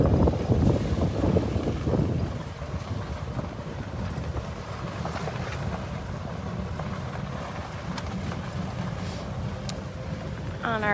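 Strong wind buffets a microphone outdoors at a big cat rescue sanctuary, a loud continuous roaring rumble that gusts hardest in the first two seconds, then settles into steady blustery noise.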